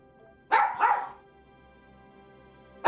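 A dog barks twice in quick succession, fairly close and clear against a quiet room hum, followed by silence and the start of another bark at the very end.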